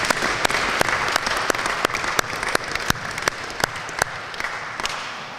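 Audience applause at a graduation ceremony, a steady broadband clapping with sharp individual claps standing out, continuing for several seconds with no talk over it.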